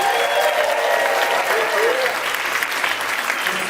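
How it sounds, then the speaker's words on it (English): Audience at an indie web series awards show applauding in a loud, dense, steady wash of clapping that fills the room and does not let up. "So start off by giving yourselves a huge round of applause."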